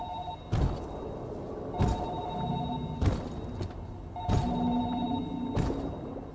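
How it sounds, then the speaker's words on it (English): A telephone rings in the video game Narcosis in repeated electronic bursts at a steady rhythm, with dull thuds landing between rings and a low hum underneath. "Why do I hear a phone ringing?"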